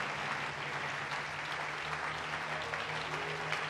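A church congregation breaks into sustained, dense applause, an even wash of clapping hands that carries on steadily with no pauses.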